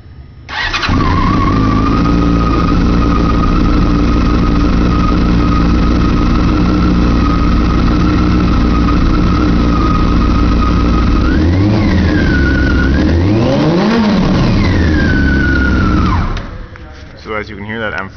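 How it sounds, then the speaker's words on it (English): A 2003 Yamaha YZF-R6 sport motorcycle with an M4 exhaust fires up and runs loud and close, holding a steady rumble before revving up twice with rising and falling pitch, then cutting off. "As you can hear, that M4 exhaust sounds pretty trick."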